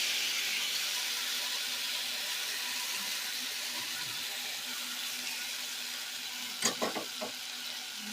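Egg, potato and tomato paste frying in hot oil in a wok make a soft, steady sizzle, with a few quick scraping or clinking sounds near the end.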